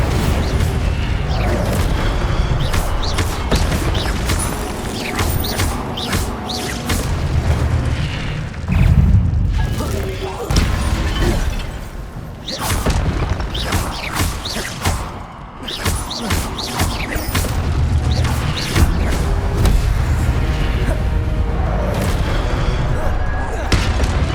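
Spells cast in Hogwarts Legacy land as a long run of heavy booms and thuds mixed with crackling bursts, loud and dense, and a voice is heard in places through the barrage.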